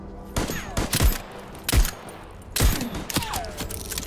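Gunfire in the Voidtrain video game, several loud, punchy shots fired in uneven bursts, with faint background game noise between them.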